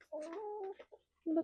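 A chicken gives a few soft, close clucks and short warbling calls, quiet, with a brief pause before a final cluck.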